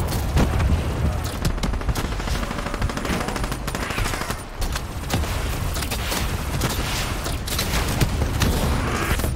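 Rapid machine-gun fire hammers at an enemy in Call of Duty Black Ops 3, loud, sustained bursts with booming impacts and dense rattling that barely lets up.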